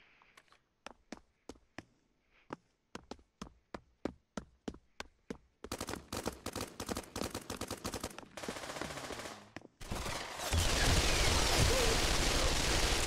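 A submachine gun in the virtual reality shooter Pavlov VR fires close up, first in sharp single and short bursts of shots, then in a longer rattling stream, before a loud, noisy stretch at the end.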